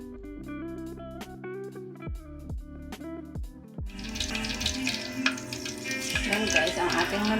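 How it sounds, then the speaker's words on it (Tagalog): Tubo-tubo, a Bicol-style snack, dropping into hot cooking oil, a broad steady sizzle that swells and holds loud for the last few seconds after quieter kitchen clatter. "ang ating mantika at ilulubog na natin ang ating tubo-tubo."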